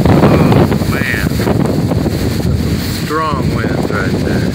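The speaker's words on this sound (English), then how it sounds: "Strong winds right there." Strong thunderstorm wind gusts roar across the microphone during a severe storm in Austin, Texas: loud, continuous buffeting rush with brief voice sounds breaking through.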